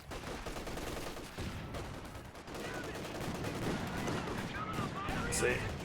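Gunfire and explosions in the game Company of Heroes 2 form a dense, continuous battle din of rattling shots and booming blasts that swells toward the end.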